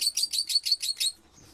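A Fischer's lovebird chirps in a quick, regular series of about seven sharp, high tweets, close and loud, before falling quiet.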